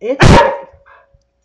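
A dog barks in a neighbor's yard, one sharp bark close by, then fades into low rustling and quiet, with a person speaking briefly at the start.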